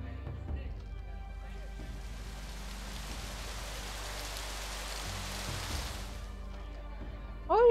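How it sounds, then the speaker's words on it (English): Soft, steady rain patters over crops in the colony-building game Colonize, a faint hiss swelling in the middle and tailing off, with someone talking quietly over it. "Oh yeah, the rain waters them."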